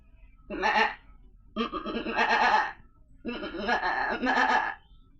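A person imitates a goat's bleat, three wavering nasal calls in a row, the later ones longer and doubled, close and fairly loud.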